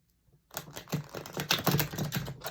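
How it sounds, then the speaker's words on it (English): Rapid, crisp riffling of tarot cards being shuffled, a dense run of soft flicking clicks after a brief quiet start. "One more shuffle"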